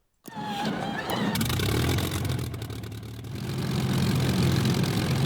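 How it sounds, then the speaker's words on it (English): A Supermarine Spitfire Mk I engine in a flight simulator cranks and catches after a brief silence, then settles into a loud, steady, rough piston rumble that swells slightly toward the end. "And we'll engage the starter."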